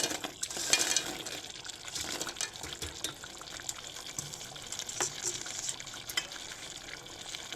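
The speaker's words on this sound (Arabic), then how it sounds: "ده تقليب" Rice kofta being stirred through a simmering sauce in a pan, a soft continuous wet sloshing and scraping with faint sizzling underneath, steady and close throughout with no one speaking.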